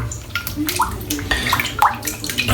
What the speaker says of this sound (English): I'm just going to rinse it off a little bit